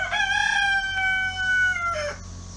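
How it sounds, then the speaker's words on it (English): A rooster crows at a backyard chicken coop, one long, loud, close cock-a-doodle-doo that rises, holds and then drops away, with nobody speaking. "Don't you like it how the rooster always gives me an introduction?"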